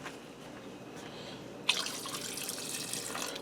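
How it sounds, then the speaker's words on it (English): After a quiet moment, water from a measuring cup begins pouring steadily into a soup pot, a continuous close splashing stream that lasts until the end. "I'm going to add in some water."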